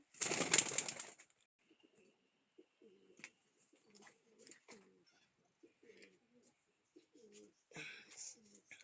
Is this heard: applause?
no